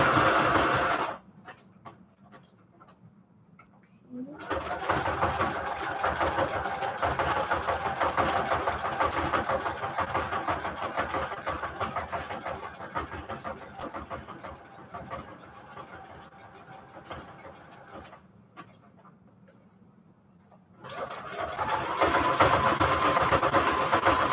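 A sewing machine stitching paper strip collages onto tags runs in a long, steady mechanical whir of about fourteen seconds, goes quiet, then starts again for a few seconds at the end.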